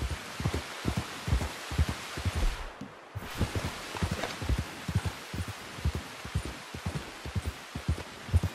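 Horse hooves clip-clop in a steady, repeated rhythm on a trail in Red Dead Redemption II, a continuous run of soft thuds with a brief pause midway, mixed with rainy ambient hiss.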